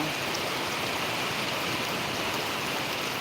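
Heavy rain pours steadily in Mehkar taluka, Buldhana district, as a dense, even hiss of falling water with no pauses and no voices.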